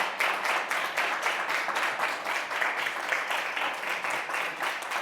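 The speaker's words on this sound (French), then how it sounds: "Applaudissements." A closing ceremony audience gives steady, fairly even applause after thanks to ministers and speakers, a continuous wash of many hands clapping at moderate volume with a slight rhythmic pulse.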